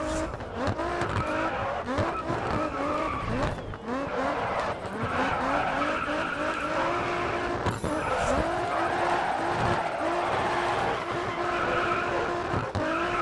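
A race car drifts in the Grid Autosport video game, with continuous loud tire squeals and skidding over a revving engine that rises and falls with each corner, sustained throughout.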